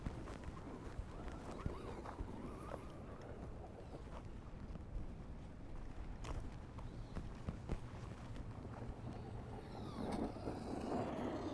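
A stock Traxxas Stampede 4x4 VXL RC truck running on 3S drives continuously, its rough whirring motor and rattling wheels sounding fairly close and steady, swelling louder near the end.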